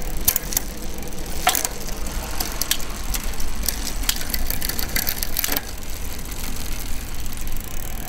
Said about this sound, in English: Can you see the derailleur moving?